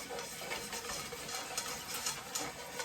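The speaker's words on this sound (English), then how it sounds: "just keep stirring" Flour-and-butter roux being stirred in a pan for gravy: a faint, steady bubbling sizzle with soft scraping strokes of the spoon at an uneven rhythm, quiet and close, no talking.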